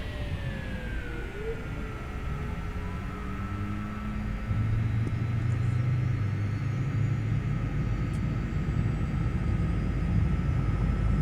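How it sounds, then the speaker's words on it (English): A Piaggio P180 turboprop engine starting in a flight simulator: a rising whine sweeps upward over a steady low rumble, which thickens and grows louder partway through as the engine spools up, with no voices. "that's engine 1 coming up"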